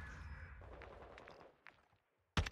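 Bursts of gunfire in Call of Duty MW2, a video game, the first half thick with rapid shots, a few sharp isolated shots after, a near-silent gap, then loud close bursts again at the end.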